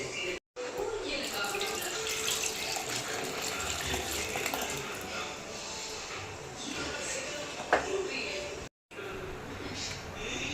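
Water is poured into a pan of kulambu cooking with coconut, a steady close pouring and splashing wash that runs most of the way through, with a voice in the background.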